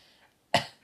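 A person's voice imitates a dog's short, petty cough in one brief, sharp burst after a moment of quiet.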